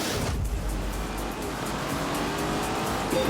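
Race cars, among them a Lamborghini with a 4-litre V8, launch together off the start line, their loud engine roar swelling into tire squeal. The sound is dense and close and carries on without a break.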